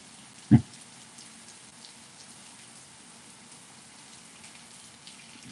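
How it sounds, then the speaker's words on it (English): Heavy rain pours down outside, a faint, steady hiss heard from indoors, broken once early by a sharp thump. "that rain is coming down"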